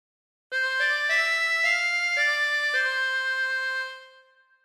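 A harmonica plays a slow phrase of the Star Spangled Banner, about seven clean sustained notes stepping in pitch, steady and alone before fading out.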